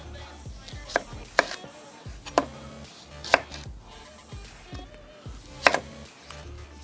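A knife slices a large peeled onion into thick rings on a cutting board, giving a handful of sharp, distinct chops spaced irregularly, close and clear with no talking.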